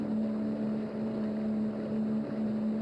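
A motorboat chugs along the Kaveri river with a constant, nearby motor hum and a steady tonal whine over rushing water and wind noise, with no break.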